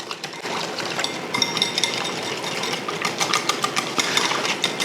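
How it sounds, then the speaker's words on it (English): Miso paste being whisked into a glaze in a bowl, a steady close scraping and rattling whir that runs continuously with small rhythmic accents. "get that miso paste mashed up, switch to this, see if this whisk"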